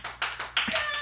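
Clapping from a live studio audience at a family podcast, a brief burst of a few loose hand claps and taps, close and fairly loud, with no clear cheering voices.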